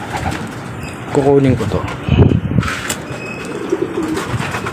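A pigeon held in a person's hands gives soft, close cooing on a windy day, while someone speaks over it.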